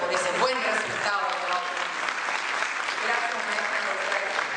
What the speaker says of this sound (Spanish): ¿por qué no le damos un aplauso más fuerte por ese buen resultado?